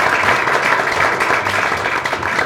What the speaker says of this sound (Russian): Ирик Зиннуров, ваши аплодисменты